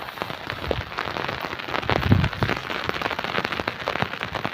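Steady rain falling in a village, a dense even hiss of drops striking surfaces nearby, continuous and moderately loud throughout with no voices.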